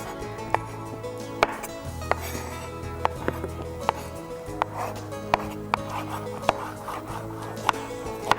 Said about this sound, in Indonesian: Jamurnya kita akan potong kecil-kecil aja.